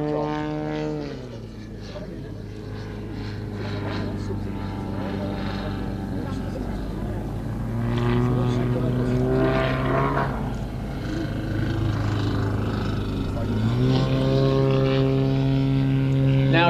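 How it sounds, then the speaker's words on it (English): A propeller aerobatic aircraft holds a steady, droning engine note that shifts pitch as it hangs from its prop at the Midlands Air Festival, loud and continuous throughout, with a voice commentating over it. "relying on the power of the engine to keep it hanging there from the prop"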